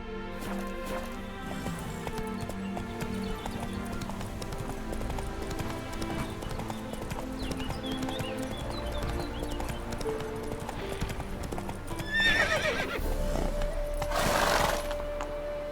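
A horse in The Witcher 3 game gallops with steady, rhythmic hoofbeats over a musical score, and a loud neigh breaks in near the end.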